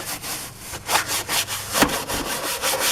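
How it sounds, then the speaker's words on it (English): A stiff brush scrubs degreaser over a greasy car or truck engine part in repeated rasping back-and-forth strokes, close and fairly loud, with no talking. "I'm going to brush it."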